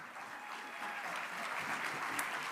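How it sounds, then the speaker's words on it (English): An audience at a spring chorus concert claps steadily and continuously, a dense wash of applause at moderate distance with no voices over it. "You can give them a round of applause."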